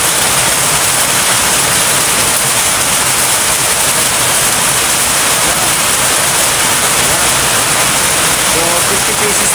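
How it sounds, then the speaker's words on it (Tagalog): Heavy rain pours down in a dense, steady hiss that stays loud and unbroken from start to finish. "Uy, maulan na naman, maulan."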